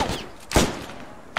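Gunfire in the military shooter Arma 3, a short burst of sharp reports with one loud crack standing out in the middle, followed by a fainter shot at the end.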